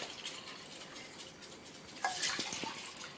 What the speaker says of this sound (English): we're going to take tap water and we're going to fill these two things here real quick